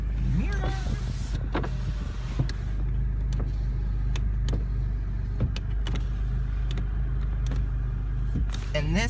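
A car's power windows whir as they roll up and down inside the cabin, a steady motor hum punctuated by sharp clicks and thumps of the switches.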